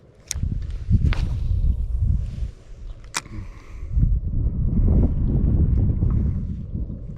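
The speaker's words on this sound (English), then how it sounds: "Wind is definitely picking up." Steady wind noise rumbling over an open lake during a bass fishing outing, rising and buffeting the microphone throughout, with a few sharp clicks and knocks from a boat.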